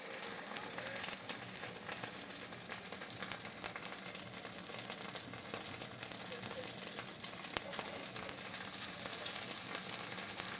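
A grilled cheese sandwich frying low and slow in a pan gives off a steady, gentle sizzle with faint crackles throughout, close and even, with no talking.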